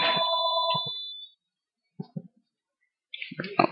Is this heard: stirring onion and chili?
no